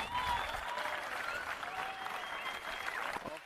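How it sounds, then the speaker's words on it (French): Sustained applause from a seated audience at a school games closing ceremony in Greece, welcoming young athletes' delegations as they enter; steady dense clapping fills the whole stretch at moderate loudness with faint whistles on top. "je vous invite à les applaudir très très fort"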